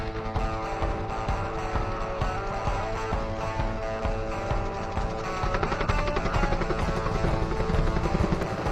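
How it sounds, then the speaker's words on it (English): Helicopter flying overhead during emergency forest mitigation work on mountain pine beetle-damaged timber, a steady loud rotor and engine drone that holds throughout, with no talk over it. "that's why there's a helicopter in the air today"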